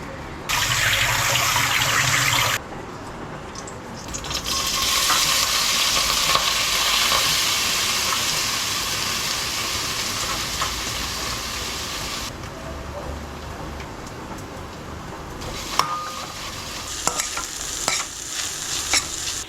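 Poha being stirred and fried in oil with cumin, curry leaves and chili gives a steady close sizzle with scraping spoon strokes, pausing midway and resuming with sharper clinks near the end.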